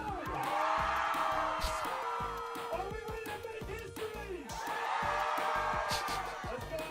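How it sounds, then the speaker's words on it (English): Crowd noise in a gay bar in a video game, a dense, loud, continuous wash of voices and cheering with a few whoops and shouts rising over it throughout. "The crowd."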